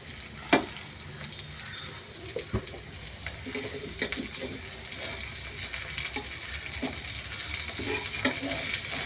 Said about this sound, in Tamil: இப்போ வந்து இந்த மீனை வந்து திருப்பி போட்டுக்கிறேன்.